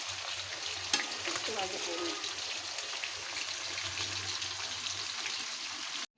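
Boal fish frying lightly in a pan, a steady close sizzle with soft crackle and occasional stirring scrapes running throughout, with a sharp clink near the start.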